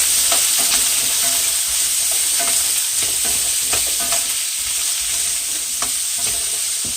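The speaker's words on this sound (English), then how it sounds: "And we're just gonna saute this around." Food sautéing in a pan over medium-low heat, a steady close sizzle broken by scraping and stirring clicks as the pieces are moved around, with no voices.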